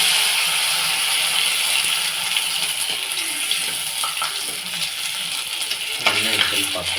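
Rice flour sandige dropped into hot oil, giving a loud continuous bubbling sizzle that stays strong throughout, with a few faint clinks of a utensil near the end.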